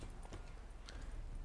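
Roach the horse in Witcher 3: a quick run of hoof clip-clops, faint and steady over a short stretch, with no clear whinny.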